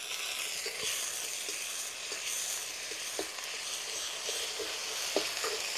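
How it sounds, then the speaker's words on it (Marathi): Onion and green chili paste sizzle steadily in a hot pan, a continuous bright frying hiss with a few small pops, close and unbroken, with no talking. "हे मिश्रण आपल्याला सोनेरी रंग येईपर्यंत परतून घ्यायचं आहे."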